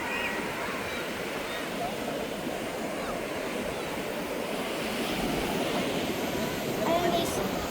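Surf rolls steadily onto the sand at Glenidon Calayo Beach in Nasugbu, Batangas, a continuous broadband wash with wind buffeting the microphone and a slightly louder swell near the end.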